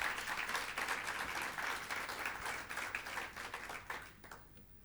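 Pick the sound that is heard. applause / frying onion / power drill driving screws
applause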